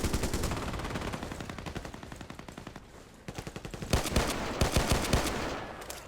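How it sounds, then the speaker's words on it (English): Rapid automatic fire from the ACW-R rifle in a video game, close and loud bursts of sharp rhythmic shots, a short pause midway, then more spaced cracks and bursts. "So I do like this gun without attachments"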